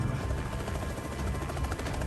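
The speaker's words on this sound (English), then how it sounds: "We deboarded in the furing winds of the helicopter and watched it take off." Helicopter lifting off in strong, gusting rotor wash at a Suriname river site, a steady loud roar of engine and blade thump with heavy wind noise throughout, no talking.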